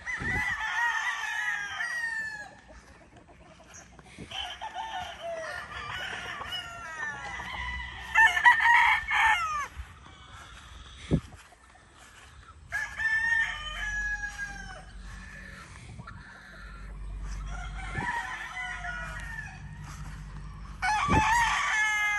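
Several gamefowl roosters of the Kelso McLean and Boston McLean breeds crow one after another, some close and loud, others farther off, with clucking hens scattered between the calls.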